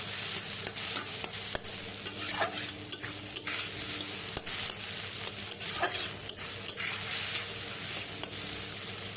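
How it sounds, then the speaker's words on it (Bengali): Onion and red chillies fry in a pan with a constant sizzle, punctuated by frequent scraping and clicking stir strokes, close and moderately loud with no talking. "সুন্দর করে বেশ পেঁয়াজটা ভাজা হয়ে গেছে"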